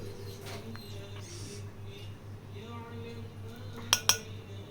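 A serving spoon clinks against a plate while scooping mashed potato bharta. Two sharp, close clinks come near the end over a steady low hum.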